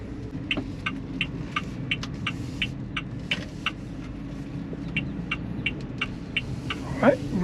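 A 2024 Haval Jolion Ultra Hybrid moving from inside the cabin, with a low, even road and engine hum beneath a steady, regular ticking of the turn indicator, plus a faint rattle near the end.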